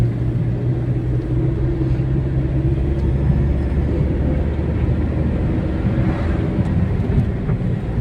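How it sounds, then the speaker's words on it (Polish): Steady traffic rumble of cars passing on a city street in Stargard, loud and continuous with broad low engine and tyre noise, no voices. "Tu nie chcę nagrywać, bo samochody przejeżdżają."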